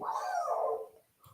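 A dog in the Minecraft video game lets out a single drawn-out, whining bark that fades after about a second, heard alone and fairly quiet.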